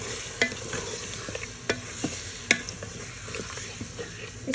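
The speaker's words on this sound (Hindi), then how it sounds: "लहसुन अदरक के पेस्ट के साथ भी हम इसको भूनेंगे" Mutton being fried and stirred with garlic ginger paste and spices for daal gosht, a steady close sizzle broken by sharp scraping stir strokes, with no talking.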